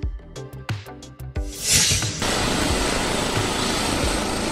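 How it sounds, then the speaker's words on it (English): Police helicopter rotor and engine noise rising to a steady, loud drone after a few sharp knocks at the start. "Wow! Police helicopter."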